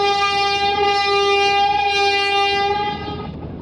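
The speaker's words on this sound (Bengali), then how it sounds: "আজ সুন্দরবন 12 এবং সুন্দরবন 16 দুইটা লঞ্চ বরিশাল ঘাট থেকে যাত্রী নিয়ে ঢাকার উদ্দেশ্যে রওনা দিয়ে গেল।" The Sundarban 12 passenger launch sounds its deep horn while leaving Barishal ghat for Dhaka, one loud sustained blast lasting about three seconds before dropping away into engine rumble.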